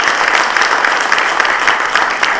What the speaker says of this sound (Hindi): डॉक्टर साधना शंकर का जोरदार तालियों से अभिनंदन करें